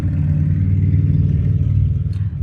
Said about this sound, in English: there's a motorcycle